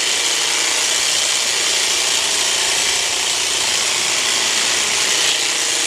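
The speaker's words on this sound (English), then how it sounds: "Maybe I'll speed it up so you guys can see in real time how fast I'm trimming this bush right now" A Milwaukee M18 Fuel hedge trimmer attachment trims a bush, a loud, steady, buzzing whir of cutting blades running without pause, close to the listener, with no talk.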